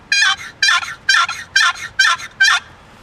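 Six sharp, evenly spaced yelps from a turkey box call imitating a gobbler, loud and close with short pauses between each scratchy note, no voices.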